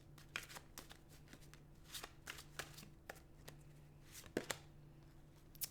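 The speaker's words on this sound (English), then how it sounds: "Going to go into the tarot deck and get you 2 cards here." A tarot card deck being shuffled, with crisp riffling flicks and soft card slaps repeating in short bursts, close and fairly quiet over a low steady hum.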